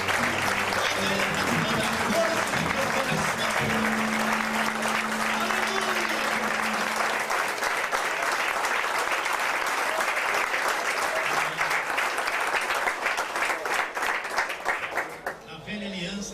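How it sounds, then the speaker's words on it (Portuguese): A church congregation claps during a Portuguese-language service, a long, sustained burst of broadband applause with some voices mixed in, holding steady before tapering off near the end. "vamos aplaudir Jesus Cristo"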